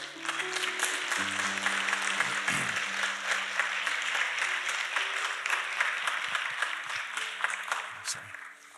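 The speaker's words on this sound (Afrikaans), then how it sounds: "gee vir hulle 'n goeie hande klap" A church congregation at a Sunday service claps steadily and warmly for several seconds, with voices talking and calling out over the applause.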